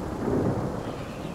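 Rain spell with rumbling thunder in the video game Divinity: Original Sin, a steady low roll of thunder over a wash of rain, fairly loud and alone without talk.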